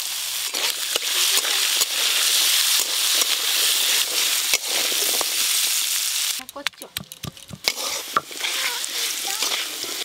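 Potatoes frying in oil are stirred: a dense, loud sizzle runs throughout, broken by scraping stirs, then the hiss drops and sharper clatters and scrapes follow near the end.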